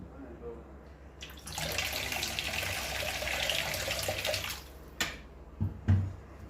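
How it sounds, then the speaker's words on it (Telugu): A stream of water pours steadily for a few seconds into badusha dough with milk, curd and oil, a soft rushing splash, followed by a few light knocks. "వాటర్ పోసుకోవాలండి"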